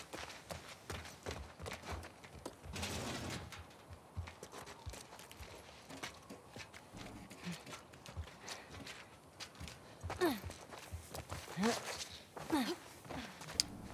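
Horse hooves clip-clop in the video game The Last of Us Part II, a steady run of light footfalls heard under a voice and game sounds.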